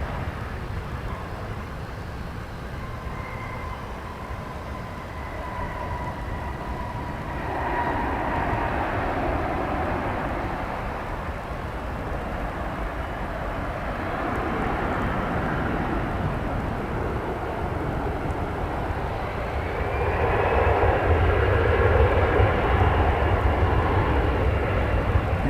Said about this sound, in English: Coming in from Omaha, American Flight 2540. Landing on runway